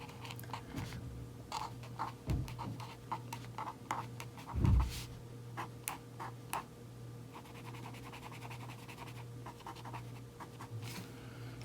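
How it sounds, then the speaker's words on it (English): Pens writing on journal paper make faint, close scratching strokes in short, irregular bursts over a quiet background with a low steady hum. "So they all write really nice on the paper."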